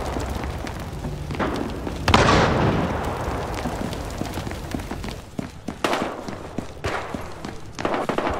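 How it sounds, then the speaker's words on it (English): Incendiary grenade going off in a video game, a sudden loud whooshing burst that ignites into a sustained roaring fire rumble, followed by sharp thuds and bursts of nearby gunfire. "Gonna hit him with the incendiary!"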